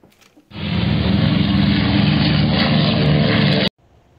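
Loud, steady propeller-aircraft engine drone in flight, starting abruptly and holding constant for about three seconds before cutting off, with no voices over it.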